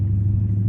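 A Dodge Charger Scat Pack with its mid muffler deleted is being driven, its exhaust a steady deep low rumble held close and loud throughout, without any rev spikes.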